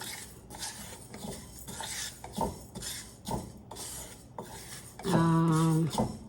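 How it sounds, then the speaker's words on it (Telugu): Fenugreek seeds dry-roasting in a pan without oil, with repeated scraping and stirring scratches in a steady rhythm, ending in a brief louder tonal clatter of metal utensils near the end. "ఆ మెంతుల్ని నూనె ఏమి వేయకుండా బాగా పొడిగానే వేయించుకోవాలి"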